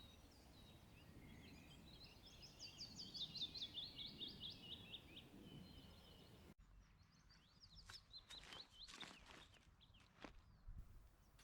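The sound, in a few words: willow warbler song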